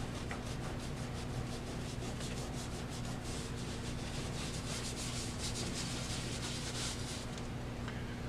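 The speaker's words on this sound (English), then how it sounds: "this is melamine scrubbing pad. It just goes in there and it takes off all the greasy, grimy crud." A melamine scrubbing pad rubs grime off the mechanism of a bulk toy candy machine in quick, steady back-and-forth strokes, close and continuous, with a constant hum beneath.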